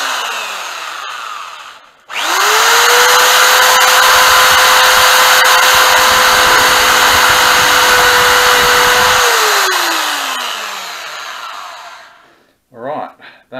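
A power tool cutting a boost bottle manifold, done without a vise, spins up sharply and holds a loud, steady whine for about seven seconds before winding down, with brief faint clatter at the end.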